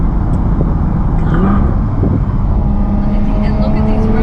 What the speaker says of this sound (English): Just listen to that V12, baby.